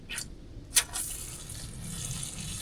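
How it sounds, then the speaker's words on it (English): Water poured into a pizza dough mix outdoors at a winter overland camp in Utah, a short splashing trickle with a couple of brief sharp clinks near the start, fairly faint over steady background noise. "I almost added too much water."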